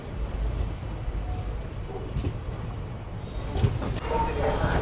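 A passenger train eases into motion after receiving its signal near Krishna Ghat junction on the Secunderabad–Vijayawada run, a low continuous rumble with faint metallic clicks and a soft squeal toward the end, heard from inside.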